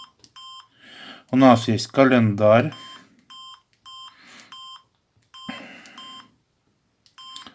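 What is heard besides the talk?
Samsung SGH X510 phone menu navigation beeps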